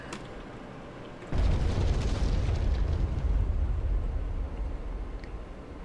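A salvo of rockets fired from a Ka-50 attack helicopter in DCS World, a sudden heavy roaring rush that kicks in after a quiet hum and holds loud and rumbling before easing slightly.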